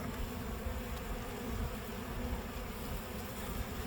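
Dense, steady insect buzzing from a small swarm of bees around a hive, a continuous near drone filling the clip with no talk.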